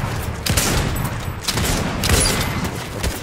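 Several bursts of automatic gunfire in a Fortnite match crackle in quick succession, loud and close, with rapid shots layered over one another and no talking.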